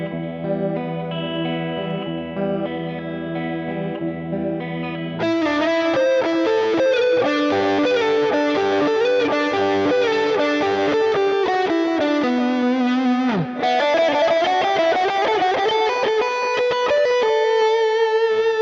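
A MOOER GTRS W900 electric guitar plays heavily distorted sustained chords and riffs from its presets, loud and thick with effects, starting cleaner before the full crunchy tone kicks in.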